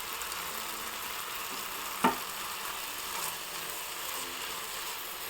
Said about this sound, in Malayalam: കരിവേപ്പില അതിനകത്തോട്ടിടാം.